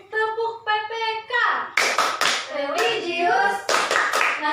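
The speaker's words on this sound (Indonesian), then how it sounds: "Tepuk PPK" Schoolchildren in an Indonesian classroom perform the PPK clapping chant, sharp bursts of rhythmic hand claps alternating with their sung and chanted voices, loud and close.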